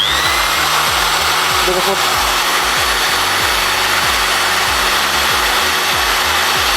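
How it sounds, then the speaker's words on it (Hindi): A 400-watt electric drill running on solar power gives a continuous buzzing whine. Beneath it a rhythmic, repeated low thudding pulses throughout, and someone speaks briefly over the noise. "अभी मैं ड्रिल मशीन चलाऊंगा"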